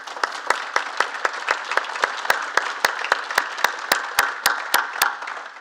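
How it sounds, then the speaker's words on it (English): A round of applause for a heritage panel in Launceston, with sharp, evenly spaced individual claps standing out over a softer bed of scattered clapping, close and moderately loud. "really just another great round of applause for our panel"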